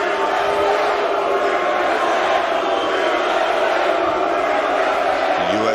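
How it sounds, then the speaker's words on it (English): Spectators at a USA vs Europe Mosconi Cup pool doubles match in an arena, a steady roar of crowd noise and cheering that holds at a constant level throughout. "The USA crowd getting into this."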